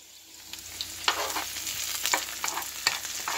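Butter sizzles in a pan as aromatics sauté down for curried shrimp, a close hiss broken by quick stirring clicks and spatters that grow busier as it goes.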